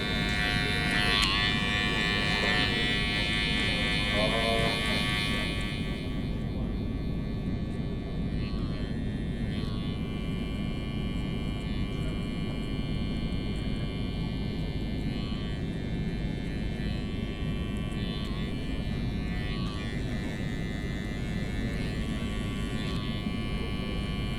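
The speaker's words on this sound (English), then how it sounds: "I'm just opening and closing the clipper with the 0 guard" Electric hair clipper fitted with a 0 guard hums steadily and close by during a taper fade at a barbershop. A constant buzz runs throughout with only slight shifts in tone.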